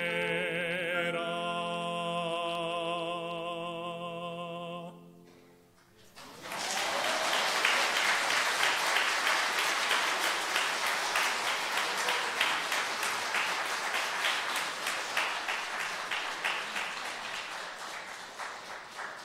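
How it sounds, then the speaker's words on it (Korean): Congregation in a church applauding steadily, a dense sustained clapping that starts after a brief musical passage and continues loudly to the end without talk. "박수 그만 치셔도 됩니다."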